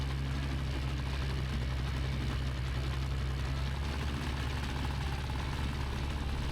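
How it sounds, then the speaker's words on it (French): A paramotor engine runs at low, rough revs as if close to stalling, a steady low throbbing drone with faint wind noise and no talk. "Comme d'habitude avec ce moteur, quand je me penche, il manque de caler."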